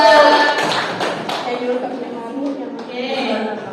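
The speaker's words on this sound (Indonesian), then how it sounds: "Tepuk tangan dong untuk Gandia." Clapping from a small audience at a baby spa training event, a brief burst of hand claps near the start that thins out while a voice keeps talking over it.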